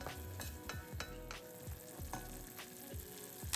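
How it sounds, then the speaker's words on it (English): Hijiki seaweed cooks in a saucepan with soy sauce and sugar, a quiet sizzle broken by repeated stirring scrapes and clinks in an uneven rhythm. "Add the soy sauce and sugar. Cook until the sugar has completely dissolved"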